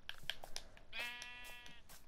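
A single sheep bleats once, faint and wavering, for under a second amid quiet outdoor background noise and a few soft knocks.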